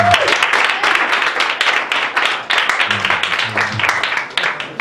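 A church congregation claps and cheers in acclaim of Jesus, with sustained applause and crowd noise filling the space, along with a few brief voices.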